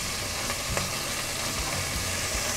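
Half a cup of green onion sizzling in two tablespoons of melted butter, a steady close frying hiss that runs without a break and without talk.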